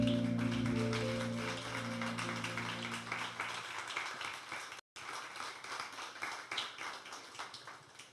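A church congregation applauds, a dense, steady wash of clapping that fills the room for several seconds, with a sustained keyboard tone sounding underneath at the start before fading out.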